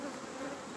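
Many honey bees hum around open hive frames during a spring hive inspection with rapeseed in bloom, a thick, even buzz held close to the microphone throughout, with no talking.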